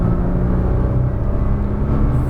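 A Nissan GT-R on a race track gives a loud, continuous engine drone with steady humming tones over deep rumble, heard from inside the car.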